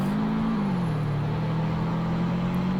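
A 1990 Honda CR-X Si-R driving in the Roblox game Greenville, its engine holding a steady mid-pitched drone that dips slightly in pitch early on and then runs evenly.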